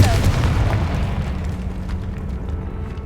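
Confringo spell explosion in the video game Hogwarts Legacy, a single heavy boom at the start that rumbles and fades over a few seconds.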